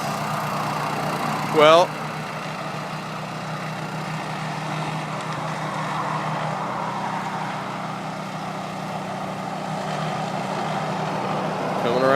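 An Orec tracked flail mower's engine runs at a steady mid-low drone as the machine is driven around a corner, with a brief squeal early on and someone speaking over it.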